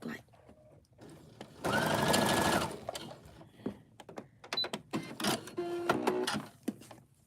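A sewing machine runs a short burst of stitching at stitch length 2.5 while preparing items for a craft fair, then falls to scattered clicks and handling noises with a person talking around it.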